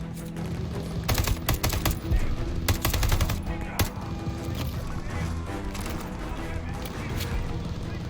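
Rapid bursts of automatic gunfire in Call of Duty: Vanguard, loud and close, with dense rattling volleys early on and sporadic shots and battle noise continuing after, with game sounds running throughout.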